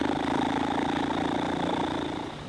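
A steady, buzzing low didgeridoo drone made by buzzing the lips holds at an even pitch and volume, then eases off slightly near the end.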